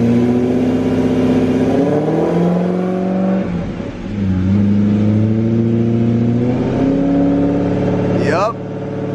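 A car engine revs up repeatedly with a new transmission, pitch climbing and dropping as it shifts through gears, loud and close, with a brief squeal of tire spin near the end.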